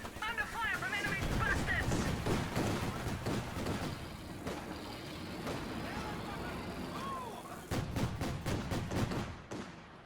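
Flak half-track fire in Company of Heroes 2 rattles in repeated bursts across a ridge, mixed with engine rumble and battle noise, while a commentator talks over the action.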